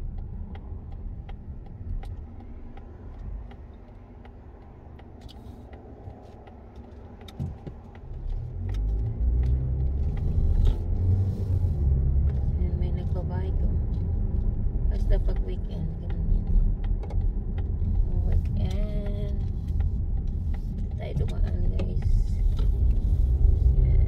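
Steady low road rumble and engine drone fill a car interior during a drive to work in Adelaide, South Australia, with someone talking over the hum throughout and small rattles and clicks.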